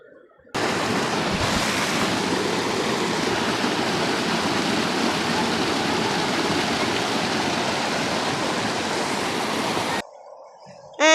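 A river flowing through a village in rural Tamil Nadu, a steady broad rush of water, loud and close, that runs unbroken for about nine seconds and then cuts off abruptly.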